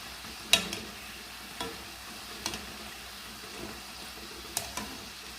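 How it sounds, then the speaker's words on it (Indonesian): Food stirred and flipped in a frying pan over low heat, a soft sizzle under a few sharp spatula scrapes and clinks spaced about a second apart, with no talking. "Ini apinya jangan gede-gede, terusan diaduk-aduk begini, dibulak-balik biar ratanya itunya matangnya merata ya."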